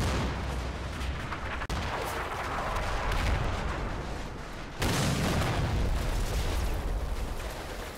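A 4.5-inch gun artillery strike lands in Combat Mission: Battle for Normandy, a continuous rumbling barrage with sharp impacts at about 1.7 and 4.8 seconds, loud and sustained.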